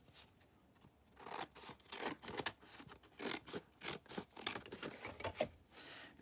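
Scissors cutting through a piece of paper during a papercraft project, giving a quiet, close series of crisp snips and rasping slices in an uneven rhythm, with no talk.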